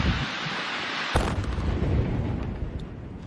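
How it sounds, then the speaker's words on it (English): A gas explosion captured in war footage: a sudden loud boom breaks over steady background roar, then a rumbling, crackling tail that slowly fades over a few seconds, with no voices. "And so here we can see the gas explosion."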